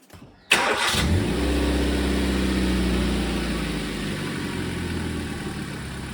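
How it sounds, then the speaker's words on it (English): A Hyundai i10 engine cranks briefly and catches, then settles into a steady, loud idle that runs on alone without voices. "let's go and start the car"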